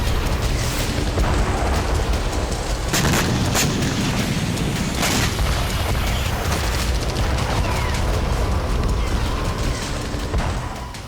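A continuous loud rumbling roar with a few sharp cracks and booms cutting through, a drone strike blast on a Russian airbase oil depot and burning aftermath heard from a distance.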